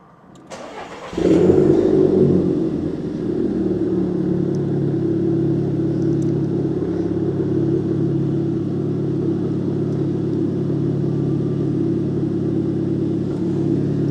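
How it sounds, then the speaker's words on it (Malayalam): A Volkswagen Golf GTI hatchback in Rennes cranks and fires up with a brief surge of revs, then settles into a steady, close, low idle rumble that runs on unbroken. "വണ്ടിയുടെ സൗണ്ട് എന്തായാലും ചുമ്മാ ഒന്ന് കേട്ട് നോക്കാം"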